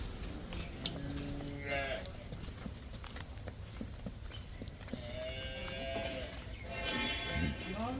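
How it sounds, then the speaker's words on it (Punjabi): A dairy cow on a farm lets out two drawn-out moos, one early and one later, heard at a distance among soft shuffling and clopping hoof sounds in a quiet setting. "ਡੇਰੀਆਂ 'ਚ ਚੌਣ ਵਾਲੀ ਗਾਂ ਆ"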